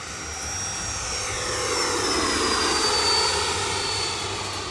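RC airplane flying overhead at roughly 65-70% throttle, a steady electric motor and propeller drone that swells slightly as it passes, then eases off.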